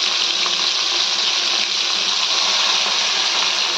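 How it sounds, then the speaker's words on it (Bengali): Fish, a small jalputi, deep-frying crisp in hot oil in a home kitchen, a steady dense sizzle running unbroken and fairly loud throughout with no voices over it. "এইভাবে কড়া ভাজা করে নিতে হবে"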